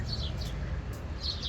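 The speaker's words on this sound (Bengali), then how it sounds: "পাখির আওয়াজটা দারুণ লাগছে" Small birds chirp in brief high bursts at the start and again near the end, over a steady low background rumble at Naples port.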